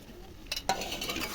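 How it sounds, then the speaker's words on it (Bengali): Chicken and green peas stirred and fried with spices in a pan, giving a brief scraping stir over a steady sizzle, close and fairly loud, with no talking. "মটরশুঁটি দিয়ে চিকেন কষা হবে, সঙ্গে চিকেনও ঢেলে দেবো"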